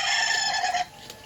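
Chickens on a village poultry farm, with a rooster's crow and clucking heard close and fairly clear, ending abruptly into quiet farmyard background.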